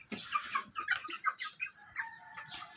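Pullets eating feed cluck and chatter in quick, close bursts, with a few higher drawn-out calls among them and no talk.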